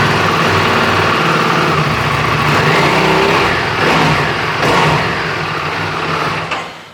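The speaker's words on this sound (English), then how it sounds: "Junior, will you fire this one up? This is a stock factory production exhaust system" A 2024 Buell motorcycle engine on its stock factory production exhaust revs loud and close, holding a rough sustained roar with swelling throttle blips before dropping away at the end.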